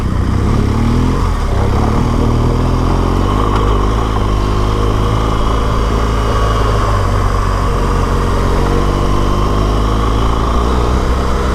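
An enduro motorcycle rides on Horans Track near Tallarook, Victoria, Australia, its engine droning loud and close without a break, the pitch shifting slightly as it moves, with no talking.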